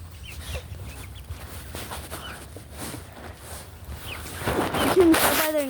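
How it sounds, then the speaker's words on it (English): A rooster and chickens cluck and call close by in a farmyard, with scattered squawks that grow louder and busier toward the end. "This one's a rooster."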